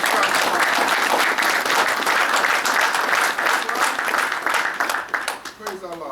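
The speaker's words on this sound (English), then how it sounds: "Give yourself a round of applause." A crowd at an annual national convention applauds steadily for several seconds, a dense wash of clapping that tapers off near the end.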